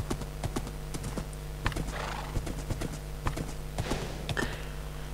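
Hooves of a snowy white horse in the Minecraft console edition clip-clop in a steady rhythm, with a whinny rising partway through, close and clear against a constant low game hum.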